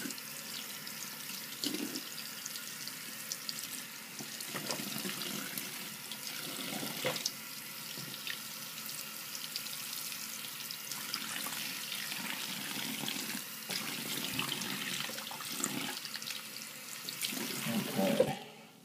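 Tap water runs and splashes over an Air Jordan XI 2001 Retro Black/Varsity Red sneaker during a quick rinse, a steady close gush with uneven spatters as the shoe shifts under the stream.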